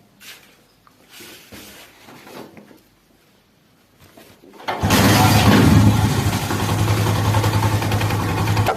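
A Honda 70 motorcycle with no battery fitted is kicked over after a few quiet mechanical clicks and knocks, then catches and idles loudly and steadily nearby.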